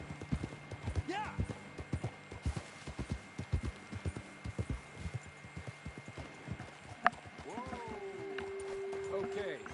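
Horses in the video game Red Dead Redemption 2 trot with a steady run of clip-clop hoofbeats, clear and fairly close, easing off near the end as a horse snorts and a low hum lingers, with someone talking over them.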